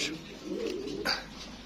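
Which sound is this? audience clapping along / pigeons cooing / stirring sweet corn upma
pigeons cooing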